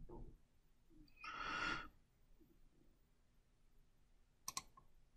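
A couple of sharp mouse clicks while routing traces in PCB design software, brief and close, with a short rustling burst between them in a quiet room.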